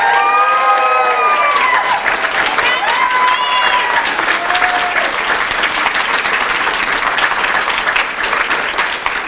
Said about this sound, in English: Could you just cheer or applaud or congratulations or something?